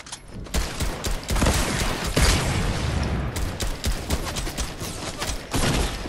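Dense, loud rapid gunfire fills a Fortnite duos match, with bursts of automatic shots and impacts running almost continuously.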